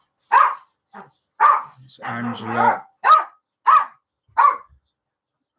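A dog at home barks in sharp single yaps, then lets out a longer growling, grumbling bark before more separate barks, all loud and close by. A person speaks a single short word in between.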